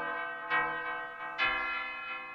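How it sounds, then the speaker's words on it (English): An Arturia MicroFreak synthesizer plays an inharmonic, paraphonic bell patch with a slight attack: two struck bell-like tones ring out in sequence, each with a bright onset and a long shimmering sustain, clear and alone. "you need to bring a bit of enharmonic, and you get this kind of bell sound again"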